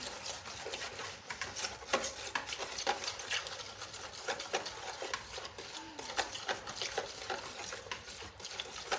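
Chicken and spices being stirred together in a pan for fried chicken, a steady close scraping and rustling that runs continuously without talk.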